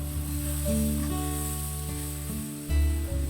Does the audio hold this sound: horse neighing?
no